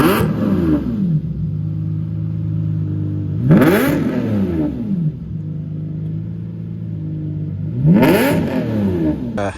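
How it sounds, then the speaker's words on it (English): A parked Lamborghini Sesto Elemento engine being revved three times, each blip rising sharply in pitch then falling back to a steady idle between bursts, close and loud with no talking. "and that's going to allow you to rev it up."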